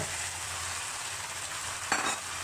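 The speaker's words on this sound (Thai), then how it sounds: "แล้วก็ผัดให้พอเข้ากับส่วนผสม" Squid, shrimp and shellfish stir-fried in a wok with sauce give a steady, close sizzle throughout, with a brief louder burst of stirring near the end.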